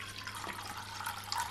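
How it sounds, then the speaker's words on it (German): Water poured into an orange bowl, a quiet continuous trickling splash heard close but faint, with no talk over it. "Und jetzt gießen wir nochmal Wasser in diese orangene Schale."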